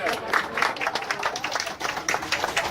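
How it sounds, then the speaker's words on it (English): A room full of people at a picnic claps steadily, a dense, even patter of applause close by, with some voices mixed in. "give Lonnie a nice round of applause"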